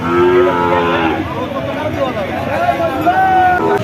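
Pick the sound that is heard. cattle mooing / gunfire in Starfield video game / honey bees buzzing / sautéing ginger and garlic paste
cattle mooing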